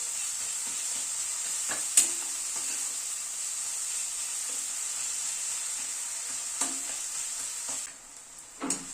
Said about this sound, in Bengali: টমেটোটাকে একটু নাড়াচাড়া করে নিলাম।